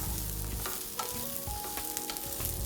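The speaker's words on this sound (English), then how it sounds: "Cook these vegetables for at least a minute on high flame, and now add in the mushrooms that are sliced" Sliced mushrooms and chopped vegetables fry on a high flame for veg fried rice, a busy close sizzle with frequent scraping stirs and clinks from the pan, and no speech.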